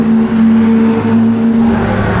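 Loud race cars and road cars out on the Circuit of the Americas track: a continuous engine drone with a steady pitched tone, running strong and close for a couple of seconds.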